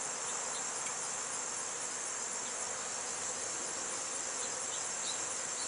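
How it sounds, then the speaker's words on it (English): Honey bees crowd the top of a beehive frame, giving off a steady, dense buzzing hum that holds at an even level throughout, with no voices. "you notice you're getting a few bees on the top"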